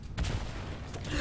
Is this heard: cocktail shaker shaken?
no